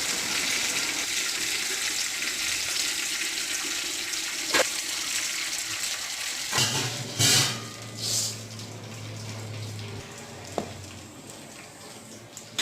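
Soaked tamarind is washed in a bowl of water for pachipulusu, with running and sloshing water, a few splashes and sharp knocks, close by and without speech.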